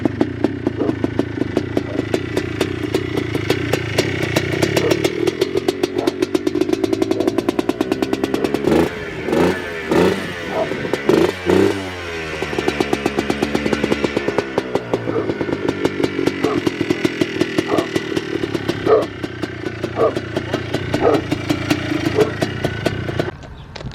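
A Stage 3 bike with a 240 top end and an aftermarket exhaust runs loud and close, idling with a rough clattering pulse before several sharp revs midway, then settling back to a choppy idle; no one speaks.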